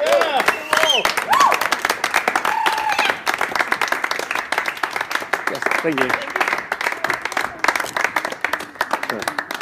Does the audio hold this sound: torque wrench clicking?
no